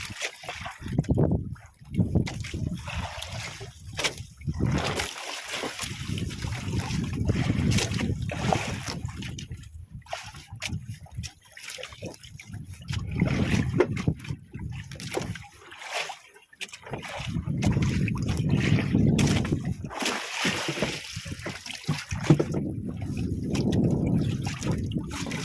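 Sea waves wash against a small fishing boat out squid fishing, a steady low sloshing and rumbling that swells and eases in repeated surges, close and fairly loud.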